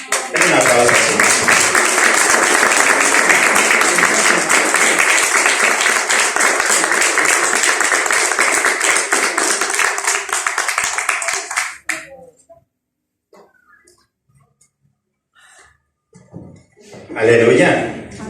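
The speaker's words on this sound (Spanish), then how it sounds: "Den un aplauso, Señor." Church congregation clapping in worship, a loud sustained wash of applause lasting about twelve seconds before cutting off, followed by faint sounds and a voice.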